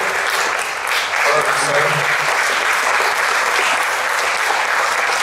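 An audience at a candidate forum applauds steadily for the candidates being introduced, a dense sustained clapping that stays loud for the whole clip, with a voice faintly underneath.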